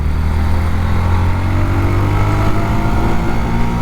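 A Yamaha FZS Hybrid motorcycle engine holds a steady, high-pitched drone at elevated revs, loud and close, with a slight buzzy vibration running underneath.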